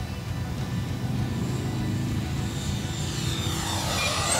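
An E-flite F-15 electric ducted-fan RC jet makes a low pass down the runway on its maiden flight, giving a loud, steady rushing whine that swells and brightens toward the end.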